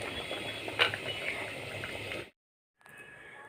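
Brinjal curry simmering in a hot clay pot just after the stove is switched off, a steady soft bubbling and fizzing for about two seconds that then cuts to near silence, with faint sound returning at the end.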